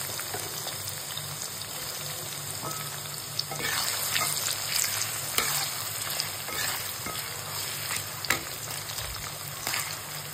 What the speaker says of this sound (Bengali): পেঁয়াজ রসুনটা ভালো করে ভাজা হোক